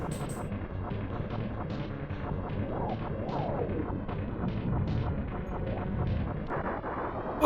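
Arwing hyper blaster shots and explosions from Star Fox on the SNES form a steady, dense stream of blasts and booming bursts under constant game noise, with a louder pop at the very end.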